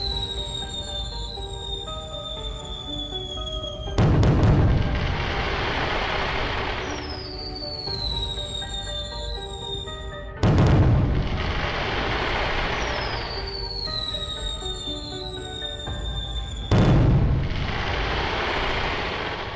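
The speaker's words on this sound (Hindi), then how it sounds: "सबसे पहले बाबा 9 शॉट्स वाला स्काई शॉट जलाते हैं।" A nine-shot sky shot firework fires three loud, sharp booms spaced several seconds apart, each followed by whistling, crackling tails that fade out, with no talking.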